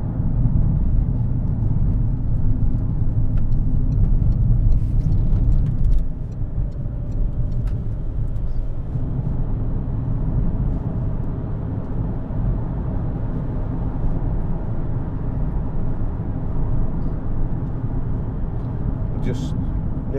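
A 2011 Citroen Berlingo 1.6 HDi VTR estate cruises along a motorway, its engine drone and road roar a constant loud hum that dips slightly midway and then holds steady.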